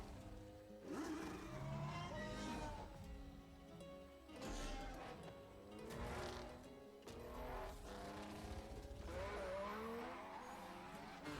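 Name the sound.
car engines racing in Forza Horizon 5 video game trailer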